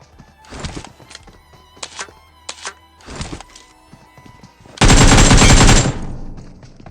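Gunfire in PUBG Mobile (BGMI): a few scattered shots and short bursts ring out early, then a loud, sustained burst of automatic fire erupts near the end and tapers off.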